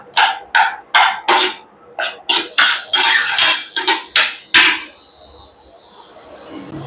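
Tomato pickle with tamarind being stirred in a pan, the spoon scraping and knocking about a dozen times in a quick, uneven rhythm, loud and close, then fading into quieter sizzling.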